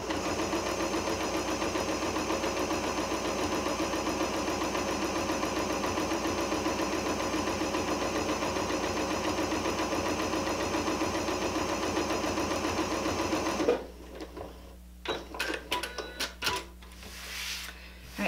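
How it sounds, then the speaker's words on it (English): Sewing machine stitching a fabric selvage onto muslin, a continuous close rhythmic whirring hum lasting about fourteen seconds before stopping, followed by a few light handling clicks and rustles. "I'm stitching through the muslin as well as the selvage"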